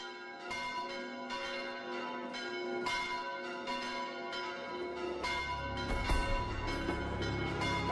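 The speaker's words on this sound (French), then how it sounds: "les cloches appellent à la messe du dimanche." Church bells peal continuously for Sunday mass, several bells overlapping in a steady, resonant ringing with a low rumbling undertone, no voices.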